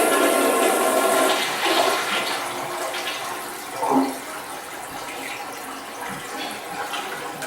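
A toilet just reinstalled after a broken flange repair flushes loudly up close, a rushing swirl of water that drains down and gives way to the quieter trickle and hiss of the tank refilling.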